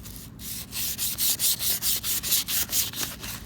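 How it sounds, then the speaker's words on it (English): Sandpaper is rubbed by hand across the bottom of a wooden bowling pin in about ten quick, even back-and-forth strokes, a close, rhythmic scratchy rasp. "I'm going to first sand the bottom of the pin"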